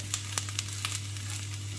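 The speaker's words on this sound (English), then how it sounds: "just give them a good stir if you haven't already" Carrot and lentil burgers frying in a pan, a steady close sizzle broken by a few light clicks and scrapes as they are stirred, with no talk.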